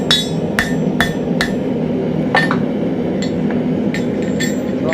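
Blacksmith hammer striking hot steel on an anvil, a series of sharp ringing clanks at irregular intervals over a steady roaring forge background, close and loud.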